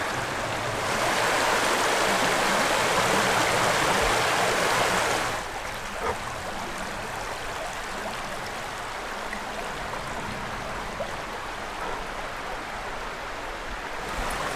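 A river flows in Red River Gorge, Kentucky: a loud rushing wash of water for the first few seconds that drops to a softer, steady babble, close and unbroken by voices.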